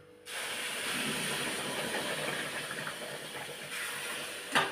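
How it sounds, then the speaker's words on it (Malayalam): A loud, steady hiss of boiling water poured onto roasted semolina in a hot pan, sustained throughout with a brief sharper burst near the end. "ഇനി നമ്മൾ അതിനകത്തോട്ട് തിളപ്പിച്ച വെള്ളം ഒഴിക്കുക"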